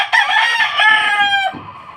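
A rooster crows once, loud and close, with a long drawn-out call that trails off near the end amid chickens on a rainy farm.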